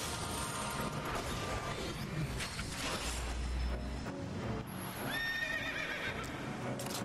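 A horse in Final Fantasy XIII, in Gestalt mode, lets out a loud whinny over steady clip-clopping hooves and busy game effects, with a second neigh near the end.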